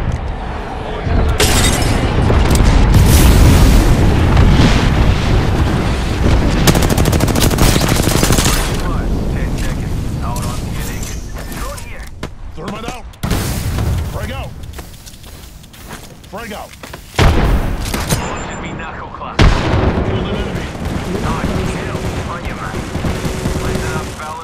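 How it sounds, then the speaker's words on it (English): Apex Legends battle noise: dense machine-gun bursts, rapid gunfire and booming frag grenade explosions pile up loud and chaotic, with a few brief gaps, while voices speak over the fighting. "Shooting a frag."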